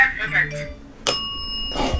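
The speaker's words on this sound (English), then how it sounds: "tap that bell again" A bell tapped once in a torture-castle exhibit rings out with a bright metallic strike and a sustained, clear ringing tail, heard over surrounding talk and movement.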